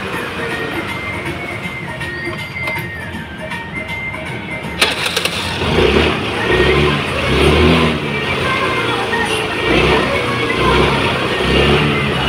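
Engine of a Mahindra Gusto scooter running steadily after a wiring repair, a continuous mechanical hum with a sharp click partway through, heard up close without talk.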